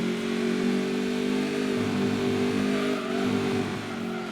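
A TVR sports car engine revs steadily in Gran Turismo 2, a loud continuous mid-pitched drone with shifting harmonics as the throttle rises and dips, alone with no talk.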